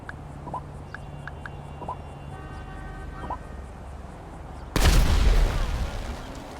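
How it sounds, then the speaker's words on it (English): In GTA 5, a phone call triggers a random explosion nearby: faint electronic tones and beeps play, then a sudden loud, close blast erupts and rumbles on for the final couple of seconds. "there's a phone number that you can call that triggers a random explosion somewhere nearby."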